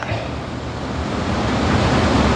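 Sea waves make a loud, continuous surf wash close by, with wind noise blended in and swelling slightly toward the end.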